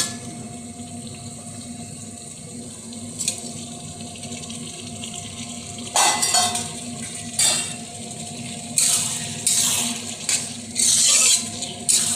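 Fried potatoes and soybean chunks being sautéed in spiced oil in a pan: a steady sizzle throughout, with louder bursts of stirring and scraping in the second half and no talking.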